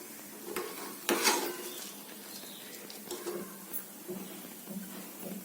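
Spices tempering in hot oil in a pan for pulihora, a soft steady sizzle with intermittent scraping stirs and a sharper clatter of a spoon against the pan near the start.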